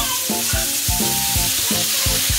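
Food fries in a pan and sizzles loudly and steadily just after a little water goes in. Repeated scraping and stirring knocks recur about every half second, and no one speaks.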